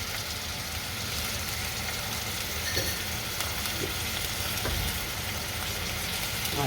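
Bitter gourd, green chili and onion sizzle steadily in a frying pan while being stirred: a continuous, fairly loud crackling hiss with a few soft scrapes, and no voices.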